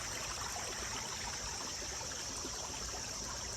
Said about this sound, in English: all this water rushing over the rocks